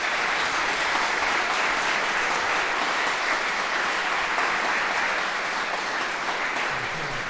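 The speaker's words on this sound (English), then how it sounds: "would you please give them a big round of applause to welcome" Steady, dense applause from a hustings audience welcoming 2024 election candidates, an even wash of many hands clapping that holds at a consistent level throughout.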